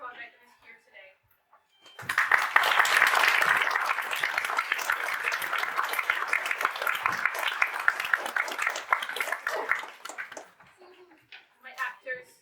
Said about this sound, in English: please will you give everyone a big round of applause who is working on this project and is here today